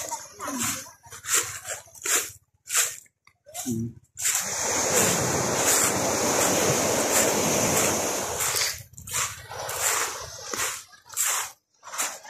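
Sea waves wash and surge on the West Philippine Sea, a loud continuous rush in the middle stretch, with brief bursts of wind and surf around someone speaking before and after.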